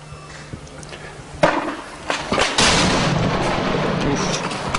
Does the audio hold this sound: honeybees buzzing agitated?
no